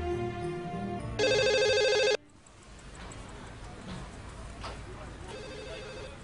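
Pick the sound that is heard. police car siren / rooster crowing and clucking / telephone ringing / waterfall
telephone ringing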